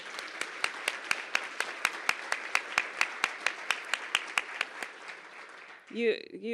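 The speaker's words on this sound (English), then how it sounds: "we should all give them a round of applause for that" Steady, rhythmic clapping from a small group at a Missouri urban board conference fills most of the clip, ending as a voice begins to speak.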